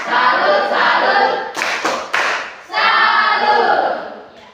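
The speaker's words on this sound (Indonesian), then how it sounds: "beri tepuk tangan dulu buat yang bertanya" An audience claps for a questioner at a discussion session, two bursts of clapping separated by a few louder thuds, fairly close and loud.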